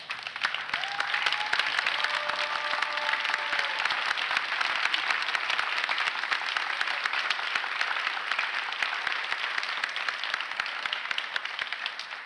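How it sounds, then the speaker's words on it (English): A theatre audience at a high school graduation applauds the superintendent, a long, dense, sustained ovation of many clapping hands at steady volume from start to finish. "stand up, and give a round of applause to our leader"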